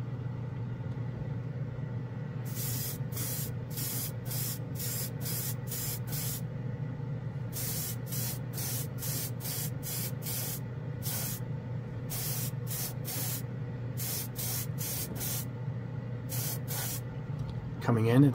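Mr. Color GX lacquer sprays from an airbrush over a Mr. Color silver base coat, sharp repeated bursts of hiss in quick trigger pulses over a constant compressor hum, close and loud.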